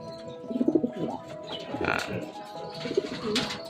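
Pigeons in a breeding pen loft coo softly and steadily at close range, with low murmuring calls overlapping throughout.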